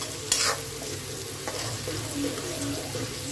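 Masala for a lauki and chana dal sabzi fries on slow heat as a spoon stirs it in the pan, a soft steady sizzle with a few scraping clinks, close and alone.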